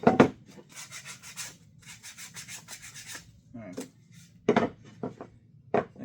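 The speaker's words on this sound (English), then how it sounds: "all I'm doing is getting the burrs off the edges from cutting it" A shelf's freshly cut edges are deburred by hand without power tools, giving repeated scraping rubs in short bursts, then a few sharp isolated scrapes after a pause, close and fairly loud.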